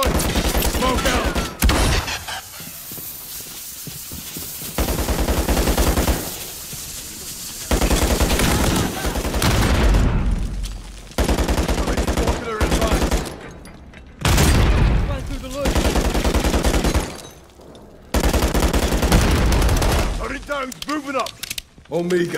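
Sustained automatic gunfire and booming shots in Call of Duty Modern Warfare 3 as a squad concentrates fire on a turret, loud bursts in long stretches broken by brief pauses, with voices calling out over the shooting.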